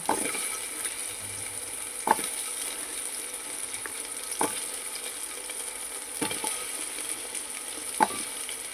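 Taro pieces sizzle in a hot frying pan, a steady bright frying hiss broken by a few soft scraping stirs; no talking.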